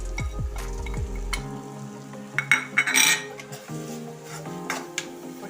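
Onion, tomato and spice powders sautéing in a pan for a coconut-bit prawn roast, with close sizzling, a spatula scraping and clinking against the pan, and several sharp metallic stirring clatters.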